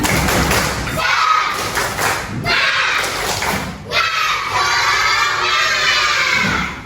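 A class of primary schoolchildren performs the 'tepuk semangat' clapping chant, loud overlapping shouts and rhythmic claps and thumps filling the classroom in several bursts.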